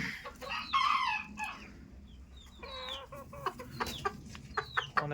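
Silver Sebright chickens on a farm cluck and call in short bursts close by, with a rooster crowing among the scattered squawks.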